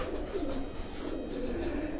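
Soft, low cooing from a Lakha pigeon held close in hand on a rooftop, with a steady murmur running under it and no talk.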